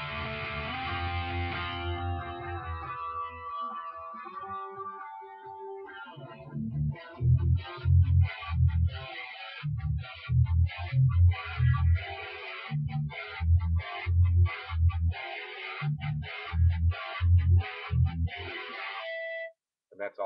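Heavy electric guitar power chords in a 3/4 part of a song, opening with a sustained ringing chord, then loud rhythmic stabs separated by short gaps, played alone up close.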